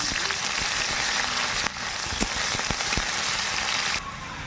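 Chopped onion frying in hot oil in a kadai for a Bengali fish curry, a steady loud sizzle with occasional sharper crackles and stirring clicks, no voices over it.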